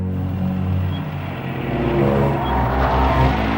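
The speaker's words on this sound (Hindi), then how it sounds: "अरे ये तो दिव्या मैडम की गाड़ी निकल गई यार।" A car pulls away and drives off, its engine rumble rising and growing louder across the short stretch, with no voices over it.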